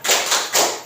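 A group of people clapping a rhythmic cheer clap, three quick bursts of loud, close applause in a tight pattern.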